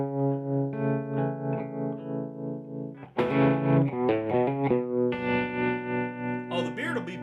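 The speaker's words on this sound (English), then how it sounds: "Here's the tremolo by itself, just so you can hear it." Sustained guitar chords pulse with a regular wavering throb in volume, a choppy tremolo effect swelling and fading rhythmically between chord changes.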